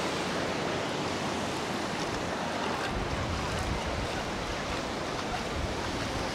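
Ocean waves wash onto the beach at Isle of Palms, South Carolina, as a continuous rushing surf roar, loud and close. Some wind buffets the microphone, and nobody speaks.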